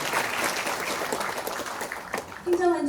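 An audience applauds at a forum on local autonomy law reform, with continuous clapping that gives way at the end to a voice speaking.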